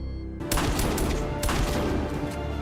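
Gunfire in a Stargate SG-1 television scene bursts out as a loud rapid fusillade of overlapping shots after a brief quiet start, carrying on to the end.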